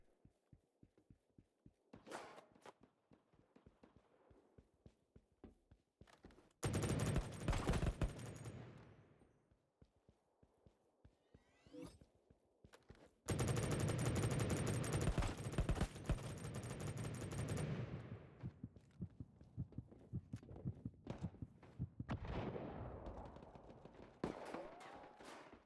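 Pistol and automatic gunfire sound in the Battle Prime shooter game, two long loud bursts of rapid shots separated by quieter stretches of scattered single shots and thuds.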